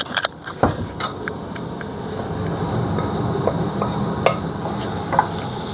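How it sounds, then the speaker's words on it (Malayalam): Green chillies tipped into onions frying in a pan for a Kerala cucumber pachadi, giving a steady close sizzle with scattered clicks of stirring throughout. "നമുക്ക് ഈ പച്ചമുളക് അങ്ങോട്ട് ഇട്ട് കൊടുക്കാം"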